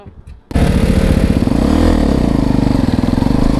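A Polaris UTV engine starting up abruptly and running loud and close, with a rough, uneven note that dips and surges as it sputters from fuel starvation, partly under voices.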